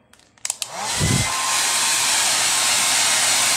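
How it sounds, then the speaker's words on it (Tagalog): An electric blower drying a freshly soaped and washed carbon-fiber sticker decal, starting after a few small clicks and then running as a loud, steady, close rushing whoosh to the end. "Pagkasabon natin, kailangan lang natin ang gamit ng blower ni Commander."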